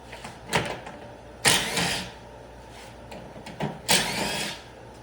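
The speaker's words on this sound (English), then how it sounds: "I'm going to come down one side of this stretcher bar, and I'm going to completely remove the 5/16 fastener." A 5/16 power driver backing a fastener out of a stretcher bar on a chaise lounge, several short whirring bursts spaced a second or two apart, close and fairly quiet.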